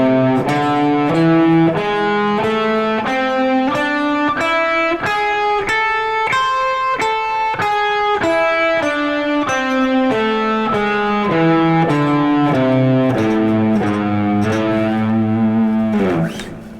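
Electric guitar with an effected, slightly distorted tone runs through an altered minor pentatonic scale, a steady stream of single notes climbing and descending, close and loud throughout with no talking.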